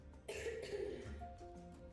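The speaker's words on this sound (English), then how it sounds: "they heard what sounded like a child's cough" A single close cough, brief and hoarse, followed by a throaty rasp fading out.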